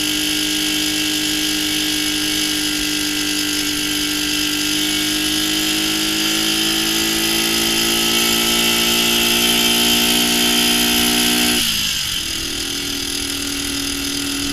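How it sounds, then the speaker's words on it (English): A 1965 Honda CB77 Super Hawk motorcycle with a four-speed gearbox revs hard and loud, its engine note climbing steadily. It then drops sharply as it shifts into a low third gear and pulls on at a steady drone. "There you can really hear in that shift into third how low of a gear that is."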